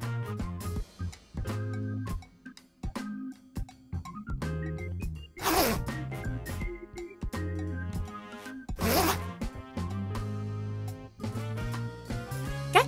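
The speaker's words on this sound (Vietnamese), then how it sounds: "Dán thêm khóa kéo vào." A zipper is fitted onto a pink fabric pouch for a party craft, with repeated zipping strokes, rustling fabric and small handling knocks, plus a loud burst near the middle and another later.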